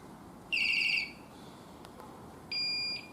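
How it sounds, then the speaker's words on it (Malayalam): A Hercules Topgear S29 R1 bicycle anti-theft alarm gives two short bursts of shrill, warbling electronic beeping about two seconds apart, clear over quiet room noise. "നമ്മൾ മുകളിൽ ചൂസ് ചെയ്തിരിക്കുന്ന ആ ഒരു അലാം സൗണ്ടാണ് താഴെ കേൾക്കുന്നത്"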